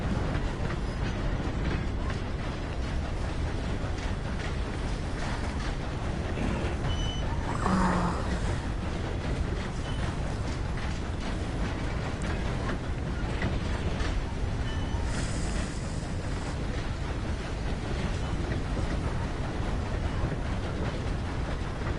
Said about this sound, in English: I've hoboed a train.